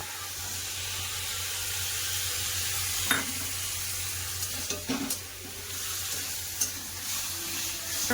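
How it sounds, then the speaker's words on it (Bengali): Ridge gourd and potato with spices being stir-fried in a pan, a steady low sizzle running throughout with a few sharp scraping stirs near the middle and toward the end. "ঝিঙ্গা আলু মশলা খুব সুন্দর করে কষে নেবো"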